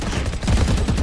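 Rapid gunfire from a Valorant match rattles out in a quick, loud burst of overlapping shots, close and punchy over a short moment.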